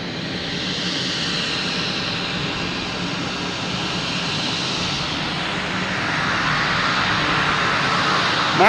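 A loud passenger airplane at Boston Logan Airport roars steadily close by, its jet engine noise broad and sustained, rising slightly toward the end with no talk over it.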